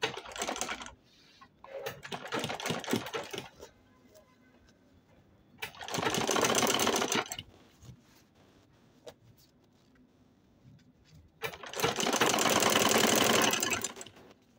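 Sewing machine top stitching a homemade fabric travel bag, running in three loud, steady bursts of rapid needle chatter separated by quieter pauses with faint handling noise.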